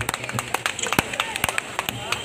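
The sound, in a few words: audience applause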